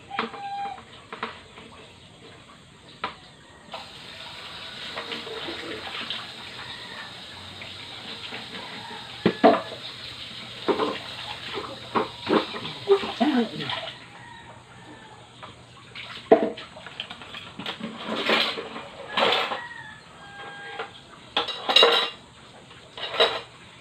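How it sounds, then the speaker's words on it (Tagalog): Dishes, pots and cutlery being washed and cleared under a running tap, a steady stream of water with clinks and clatters of plates and utensils, close by, no talk. "Tayo po ay maghugas, magligpit ng ating pinagkainan."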